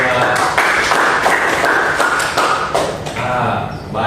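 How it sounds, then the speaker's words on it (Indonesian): A classroom of students applauds a group after their presentation, a dense patter of hand claps running steadily throughout with a voice talking over it. "Tepuk tangan untuk kelompok."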